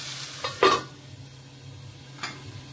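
South Indian chicken stew fries gently in a pan, a low simmering sizzle broken by a couple of sharp metallic clinks from a lid or spoon, close by and with no talking.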